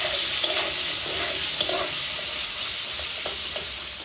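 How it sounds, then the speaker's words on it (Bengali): Steady, loud hiss of potatoes frying in a pan for a tengra fish curry, with faint stirring clicks over the sizzle and no voices. "আলুটা আমার একটু ভাজা ভাজা হয়ে গেছে"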